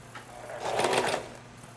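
A sewing machine stitches a Courthouse Steps quilt: one short, quiet burst of a few stitches that swells and fades in under a second, with near silence around it.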